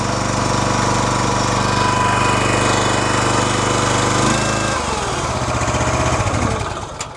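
A Wolfe Ridge 28C log splitter's engine runs loud and steady at close range, then its tone drops and roughens near the end as the throttle eases back.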